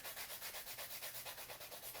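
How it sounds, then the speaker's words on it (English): Steady rhythmic rubbing of a charcoal stick laid flat on a sanding block to shape a taper, a soft scratchy back-and-forth repeated about a dozen times, close and quiet. "Sanding it by laying it flat on the sanding block."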